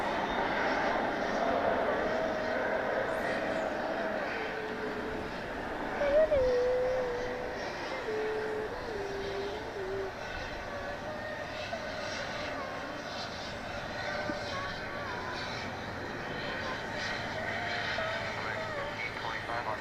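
A parked MD-11 at DFW Airport at night, heard as a steady, fairly distant engine and airport drone that holds through the whole stretch, with a faint tonal whine drifting down partway through.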